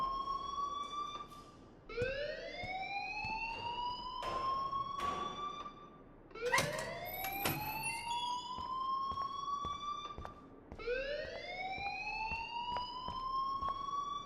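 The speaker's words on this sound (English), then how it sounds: "please turn off that alarm since that's your job" A repeating electronic alarm sounds inside a school in the video game Life is Strange, rising in loud sweeping whoops that restart about every four seconds, steady and close, with no talking.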